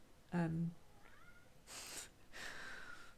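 A house cat meows indoors, one clear short meow followed by a fainter whiny call, with some rustling and shuffling noises afterward; no talk overlaps it.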